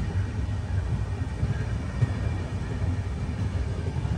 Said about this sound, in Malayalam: കൊഴുത്തുറൈ റെയിൽവേ സ്റ്റേഷനിലേക്ക് ഇതാ നമ്മുടെ ട്രെയിൻ എത്തിയിരിക്കുകയാണ്